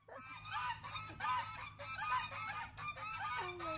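Geese honking and squawking at a beach on the Lido di Venezia, a run of fairly close, repeated harsh calls over a low steady background hum.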